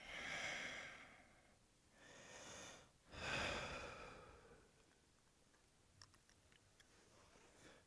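A big, slow breath out during a home yoga session, soft airy exhalations rising and fading in a few waves, close and quiet with no talking.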